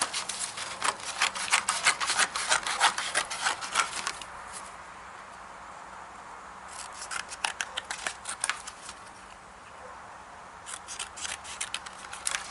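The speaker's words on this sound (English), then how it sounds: "So I'll just cut this bit of cardboard out." Scissors snipping through cardboard in rapid bursts of crisp cuts, a busy run at first, a quiet pause, then scattered snips resuming, close and alone.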